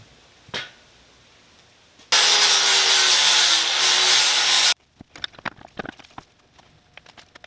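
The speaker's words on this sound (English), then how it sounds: "So I can grind that down a little bit." Power grinder cutting down metal during a Toyota E153 engine install into a Mazda BG Ford Escort GT, a loud harsh continuous grinding burst of a few seconds, then handling clatter.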